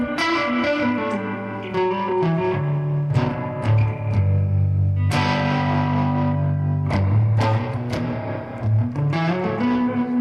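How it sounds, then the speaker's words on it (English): An electric guitar with a full humbucker pickup plays heavily distorted, sustained chords and riffs. It is loud, close and steady, with no talking. "two different guitars, two different sounds, but then you get like a little bit more distortion"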